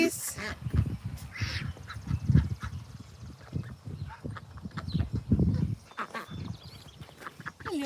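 Ducks quack repeatedly nearby in low, throaty bursts through much of the clip, mixed with soft voices of people talking.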